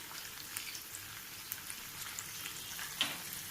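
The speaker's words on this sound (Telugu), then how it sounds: "ఇవన్నీ వేసేసి నీట్గా కొద్దిగా ఫ్రై అయ్యే వరకు వేసేస్తున్నాం." Curry leaves, tomato pieces and turmeric frying in a pan for lemon rice, a steady close sizzle with faint crackles and stirring taps throughout.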